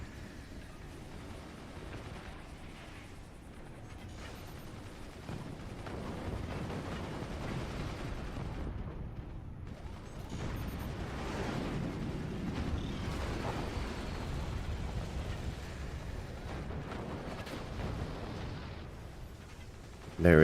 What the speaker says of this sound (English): Missile launch, missile shut down.